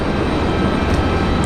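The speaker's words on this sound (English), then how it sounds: "looks like we've got American Airlines in a 737 out at the end of the runway, ready to go" An American Airlines Boeing 737 sits at the end of the runway at Raleigh-Durham International, its engines giving a steady, broad roar across the whole clip with no talk over it.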